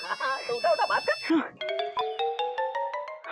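Mobile phone ringtone playing a bright, repeating melodic pattern of clear electronic tones after a short burst of voices and chatter at the start.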